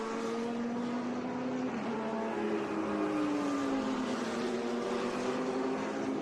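Vintage race cars, a 1963 Lotus 23B chasing a Ford GT, drone around the Laguna Seca circuit, a steady engine roar with rising and falling pitch as they hold speed, continuous and fairly distant with no voices.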